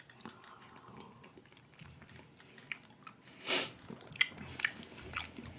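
Salt licorice candy being chewed with coffee in the mouth, giving soft close-up mouth noises with a few brief crunchy bites and wet squishes, quiet and alone.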